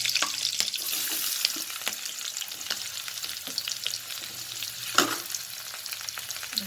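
Green chili and onion frying in oil for beetroot palya, a steady close crackle and sizzle with scattered pops and a few stirring knocks, no speech.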